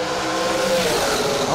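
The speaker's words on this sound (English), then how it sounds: "they're racing Top Dragster and Super Comp" Top Dragster and Super Comp drag racing cars roar loudly in a short, sustained burst of engine noise at the strip.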